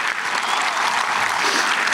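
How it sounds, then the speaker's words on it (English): Dense, steady applause from a large audience at a 2024 graduation ceremony, loud and continuous throughout with no voices standing out. "Go ahead, that's another round of applause."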